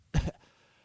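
A voice imitates someone coughing up blood during a tabletop role-play game: one short, harsh, wet-sounding cough burst, close and alone, fading into quiet.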